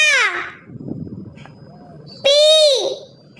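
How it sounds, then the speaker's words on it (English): An owl hoots twice, loud and close: one falling call at the start, then a second sustained call after a short pause, with quiet background noise between them. "O is for owl."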